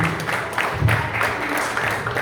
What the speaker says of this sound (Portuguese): Vamos aplaudir o Senhor, meu irmão